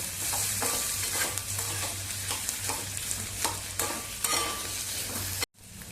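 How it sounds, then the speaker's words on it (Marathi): Boiled, peeled potato pieces, finely chopped, sauté in a hot tempering with a steady sizzle, broken by repeated scraping stirring strokes, close and alone without talk. "चांगलं परतवून घेऊया"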